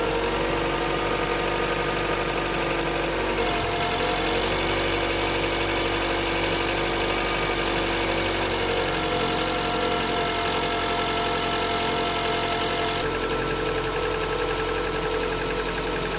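A Ford Focus Mk1 engine runs at a steady idle throughout, a constant low rumble with a slight shift in tone partway through.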